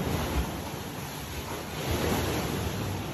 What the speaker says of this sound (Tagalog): Malapit lang ang dagat dito. Very nice ambience.